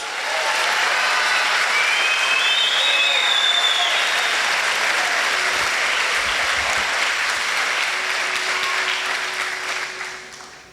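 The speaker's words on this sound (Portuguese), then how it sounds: "Se você crê nisso, aplaude Jesus." A church congregation applauds in a dense, steady wash of clapping that holds for about ten seconds before tapering off at the end, with faint voices and a brief whistle-like tone rising above it early on.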